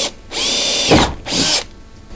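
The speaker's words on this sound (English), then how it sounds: "we'll make a small hole into the plastic right here" A power drill whirs in two bursts while drilling a hole in a plastic cab panel on a CF Moto U-Force 1000, the first longer with a brief grinding dip as the bit bites, then a shorter second run.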